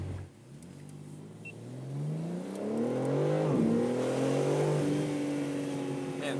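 A 2022 BMW M3 G80 accelerates on a racetrack, its engine note climbing steadily in pitch with a quick shift midway, then pulling strongly again, heard from inside the car.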